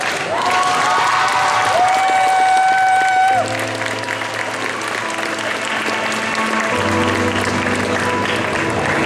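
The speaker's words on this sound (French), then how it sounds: "on applaudit très fort Princesse Peach" Audience applause and some cheering for a Princess Peach cosplayer at a Sunday cosplay contest, a dense steady wash of clapping over a sustained musical tone that shifts pitch partway through.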